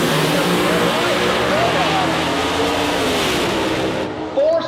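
Pro mod and fuel altered drag cars idle and inch forward at the staging line of a drag strip, a loud continuous engine rumble with rising and falling pitch sweeps, an announcer talking over it.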